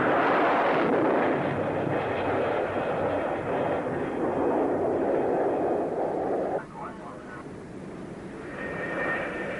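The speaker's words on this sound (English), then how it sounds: "the director signals the launch, and the Phantom is hurled down the catapult run and over the bow of the carrier" An F-4B Phantom II jet thunders off a carrier's steam catapult aboard USS Forrestal, a sustained loud roar that cuts down sharply partway through and continues as a quieter jet whine.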